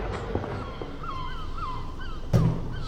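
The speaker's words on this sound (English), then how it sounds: "it sounds like we're in Filey with all the gulls" Gulls calling in a city square, King's Square near the Minster, several wailing cries drifting over quiet street ambience with one sharper louder call near the end.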